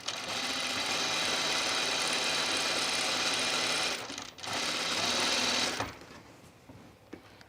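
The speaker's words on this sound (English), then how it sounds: "let's put some gathering stitches in here" A sewing machine runs fast and steady, putting gathering stitches into a dress, then stops briefly, restarts and winds down to a few faint clicks.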